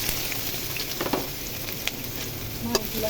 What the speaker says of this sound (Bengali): বেরেস্তা করা ওই তেলের মধ্যে এখন পেঁয়াজ ভেজে নিব।